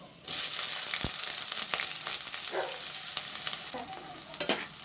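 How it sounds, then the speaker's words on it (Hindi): Chopped onion frying in a pan with bay leaves, a steady close sizzle with occasional stirring scrapes and small pops, no talking. "प्याज हम भून लेंगे"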